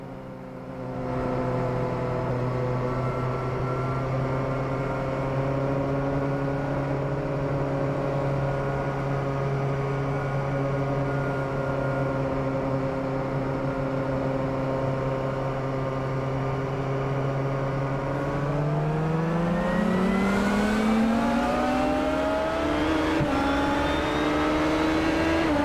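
An Indycar race car engine drones steadily from onboard at the start of a race at Iowa, a loud, sustained tone that holds for a long stretch before the pitch sweeps upward as the car accelerates near the end.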